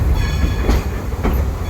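The Dollywood train Klondike Katy, Engine 192, runs on its rails with a loud, steady low rumble and a couple of wheel clacks close by. No one talks over it.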